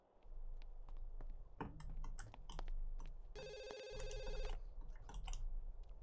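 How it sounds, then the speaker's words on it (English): A telephone rings in The Sims 2, a bright electronic trill lasting about a second, set among clicks, taps and a low background hum. "Answer the phone, please."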